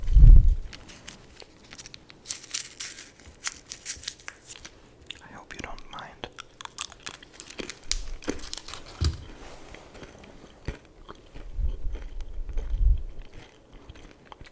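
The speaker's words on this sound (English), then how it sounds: "Let me get my chewing gum, wait." A piece of chewing gum is unwrapped with soft crinkling, then chewed close to the microphone in a quiet ASMR setting. The wet, intermittent chewing clicks fall between gentle whispered speech.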